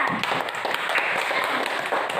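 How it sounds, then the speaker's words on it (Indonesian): Applause in a classroom: a short burst of dense, scattered clapping from a group of students, close and fairly loud, fading slightly toward the end. "Tepuk tangan buat Jaskia"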